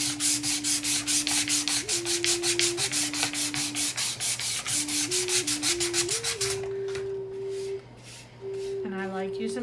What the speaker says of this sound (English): just take your sanding paper and try to sand those out